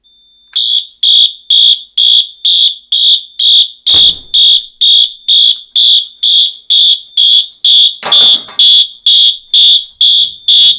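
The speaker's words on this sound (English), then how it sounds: "Silence the alarms" Wheelock MT fire alarm horns sound during a Simplex 4010 panel test, loud, piercing pulsed blasts repeating in a steady rhythm of about two per second, alone with no talk.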